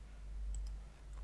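Two crisp computer mouse clicks, close and faint, spaced about a tenth of a second apart over quiet room hum while working in Tekla Structures 2017 software.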